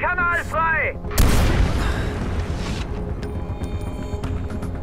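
Gunfire and a large explosion in the video game Far Cry 4: a loud, sharp blast bursts out and rolls into a long rumbling decay, with a voice and a brief whistle-like tone just before it.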